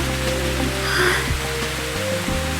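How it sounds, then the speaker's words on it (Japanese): Steady rain hisses through a story scene in the video game Project Sekai, a constant wash of falling water with a low hum underneath and no voices. "雨が強くなってきたわ。"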